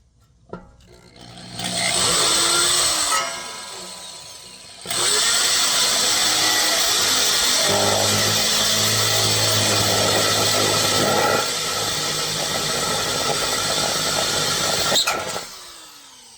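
A hammer drill whines loudly in steady bursts, stopping and restarting between pilot holes in steel for a flatbed trailer, with a gritty grinding edge as the bit cuts.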